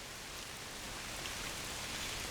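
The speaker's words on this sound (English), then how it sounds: "want to bring in some rain" Steady rain falling on surfaces, an even broadband hiss of dense drops that holds at one level throughout with no gaps, close and full, used as a nature sound layer in music production.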